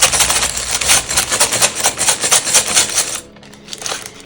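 Small plastic Lego pieces clatter and rustle in quick bursts, close up, then the handling quiets down near the end.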